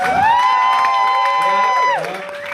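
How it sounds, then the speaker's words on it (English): A loud crowd at a drag roast show cheers, with one long high whoop held for a couple of seconds over steady audience noise. "Give them a round of applause for giving it their best shot."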